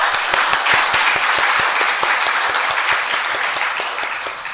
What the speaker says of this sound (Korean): 우리 교사들을 위해서 한번 박수 한번 보내드릴까요?